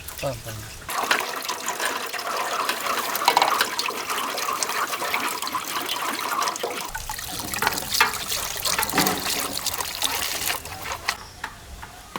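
Fresh juice from a large batch of pressed grapes trickles and splashes steadily into a vessel in a village setting, a continuous liquid flow heard close up while people talk over it.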